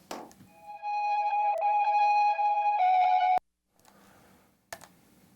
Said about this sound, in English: I'm gonna duplicate it back here, and then go reverse